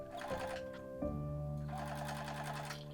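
A sewing machine stitches the curved edges of a reversible sun hat, its motor running in a steady, close whir that pauses briefly near the one-second mark and then resumes.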